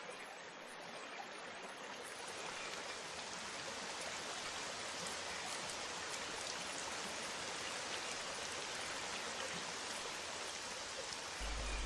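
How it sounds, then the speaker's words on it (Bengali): Steady rain falls throughout a cartoon scene, a continuous broadband patter and hiss that rises slightly after the first second and holds even and fairly loud, with no voices. "আরে এই তো বৃষ্টি চলে এসেছে"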